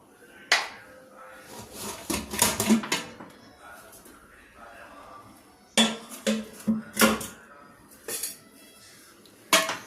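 Metal clanks and clatters of a pressure cooker lid being handled and lifted after cooking beef curry, a few sharp knocks in bursts with quiet gaps between.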